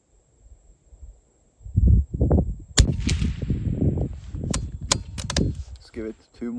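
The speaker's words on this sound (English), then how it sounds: "let's do some shooting." Rifle shots at an outdoor shooting range, several sharp cracks in a quick irregular cluster, with a person talking in between.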